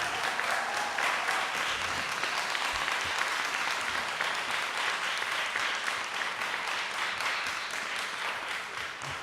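Sustained audience clapping fills a city council public meeting, a dense, continuous wash of applause that holds steady for several seconds before easing slightly toward the end.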